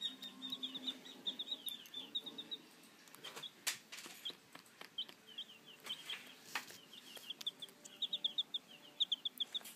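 Faint chirping and clucking from a Maran hen, scattered through the whole stretch amid rustling handling noise, with no speech.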